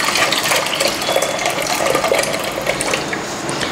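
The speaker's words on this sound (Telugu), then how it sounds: "జాలి గిన్నెలోకి వేసుకొని కడిగేసుకొని ఇట్లా పొట్టుతోటి కూడా వేసుకుంటారండి" Soaked lentils are rinsed with water in a bowl at home, giving a loud, continuous splashing and swishing of water close by with no speech.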